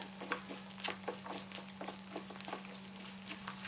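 Garlic sautés in a pan on a low flame with a quiet, steady sizzle, soft scraping stirs breaking through at intervals over a low constant hum; nobody speaks.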